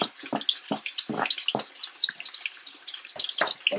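Onions and cumin seeds frying on a high flame, with crackling sizzle and scattered pops running throughout and bursts of louder spattering coming and going close by.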